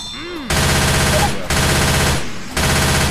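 Rapid automatic gunfire in Left 4 Dead comes in three loud, sustained bursts separated by brief pauses, dense and continuous while each burst lasts.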